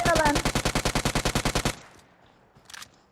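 Automatic gunfire in a video game match: a rapid burst of about fifteen evenly spaced shots for nearly two seconds, then quiet with a faint brief noise after.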